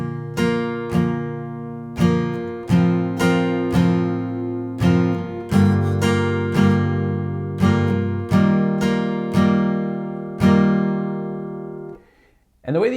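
Acoustic guitar strumming the chords of a song with added upstrokes: a loud, close, steady rhythmic pattern of ringing strums that continues for about twelve seconds and then stops abruptly.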